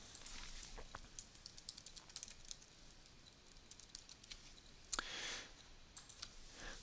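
Faint, scattered clicks of fingers typing on a computer keyboard while signing in to an account, light irregular taps over quiet room noise.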